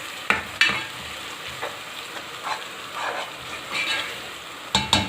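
Soft sizzling and crackling of whole spices, green and black cardamom and cinnamon, frying in hot oil, with a few sharp clinks of a spoon against the pan.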